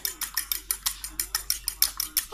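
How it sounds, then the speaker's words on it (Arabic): Rapid rhythmic clinking of a small ladle whisking eggs in a bowl for Turkish bread, about a dozen crisp metallic strokes in steady succession, close and fairly quiet with no talking. "هاي ليك مغرفه صغيره نضربوا حبيبه تاع البيض مليح"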